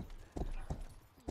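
Horse hooves clip-clop in the video game Rustler, three heavy thuds at a steady walking pace, close and clear over a low ambient bed.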